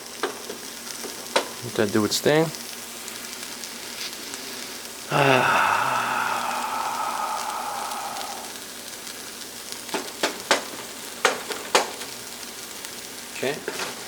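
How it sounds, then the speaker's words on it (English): Garlic and ginger frying in a pan give a steady sizzle throughout, with a louder burst of crackling hiss partway through as the pan is stirred, while a person talks intermittently. "Let it fry on its own. Look at that. Garlic and ginger go so well."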